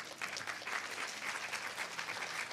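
Faint, steady clapping from an audience at a live yoga festival session, a soft continuous patter heard from a distance without voices.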